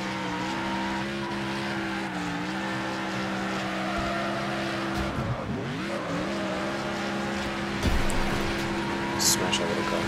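A car engine drones and revs with skidding tires in Next Car Game demolition derby as the car drifts, steady and close, with a voice talking over it.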